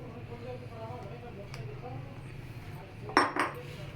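Cooked cauliflower and shredded chicken being mashed with a masher in a pan over a medium flame, a few clinking metal-on-pot knocks near the end over a steady low background hum.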